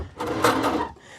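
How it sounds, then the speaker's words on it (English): Metal locking bar inside a desk drawer giving a brief clicking, rattling slide, close and fairly loud, a single short burst with no talk. "That sound you hear there is a metal bar that actually helps to lock the drawer in"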